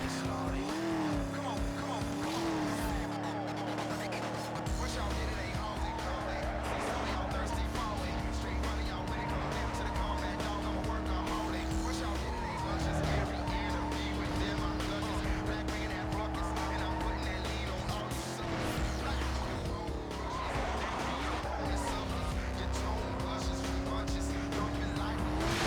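Cars race in a video game, with a continuous engine drone that rises and falls through gear changes over nearly half a minute, plus occasional tire squeal, loud and steady.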